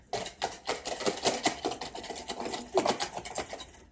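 Homemade instrument part rattling against an aluminium foil cover, a busy buzzing clatter in rapid repeated bursts that runs continuously, fairly close and loud.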